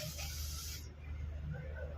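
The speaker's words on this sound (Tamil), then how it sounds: "இப்போ நம்ம ஊதக்கூடிய காற்று, இந்த ஸ்ட்ரா வழியாக வந்து காற்று போகும்" A steady breathy hiss of air blown through a narrow tube, with a fine spray sound that cuts off partway, leaving a low rumbling background.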